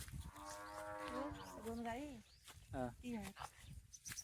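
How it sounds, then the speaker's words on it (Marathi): A bull gives a long, drawn-out moo followed by a couple of shorter lowing calls, fairly close, with faint background noise between them. "तीन वाजले आता हा बैल कुणाचा राजेदासचा"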